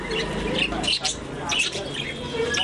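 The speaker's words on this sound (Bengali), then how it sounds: "বন্ধুরা আপনারা দেখতে পাচ্ছেন যে অনেক ধরনের কবুতর এখানে" Pigeons at a pigeon farm with several breeds, soft cooing and chirping close by, with voices talking over the birds.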